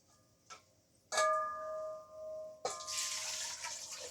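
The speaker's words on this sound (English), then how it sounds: "Let me pour some of that water" Water is poured into a container for starting sweet potato slips, a close splashing pour following a couple of small clinks and a ringing tap on the vessel.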